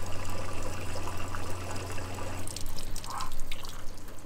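Water pours steadily into an RV fresh water tank until it overflows, a continuous rushing trickle close by with dripping and splashing that grows busier toward the end, no voices.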